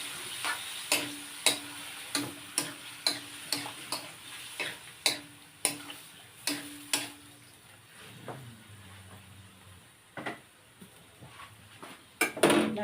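Chicken liver for adobo frying in a pan, with a soft sizzle beneath a steady series of sharp ticks and utensil taps against the pan, which turn into scraping and stirring near the end.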